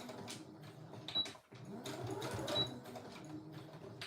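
An embroidery sewing machine stitches a zipper bag in the hoop, making a quiet, steady whirring hum of rapid needle strokes that stops briefly once before carrying on.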